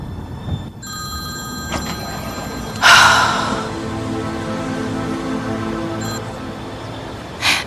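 A telephone rings in a room, one harsh electronic burst rising sharply and fading, with a fainter repeat near the end, over a quiet hum and no talk.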